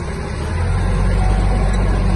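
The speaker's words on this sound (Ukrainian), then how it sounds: "Трактор стає максимально маневреним." Engine of a Kubota GL-240 Japanese mini tractor as it drives and turns with the steering wound over, a steady low rumble that swells slightly and stays close and alone throughout.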